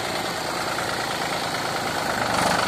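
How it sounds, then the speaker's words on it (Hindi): Mahindra 265 DI tractor engine running steadily, a loud, close, broadband mechanical roar with constant vibration and no pauses, heard alone without talk. "भाइयों ये ट्रैक्टर जो है बहुत ही बढ़िया चल रहा है"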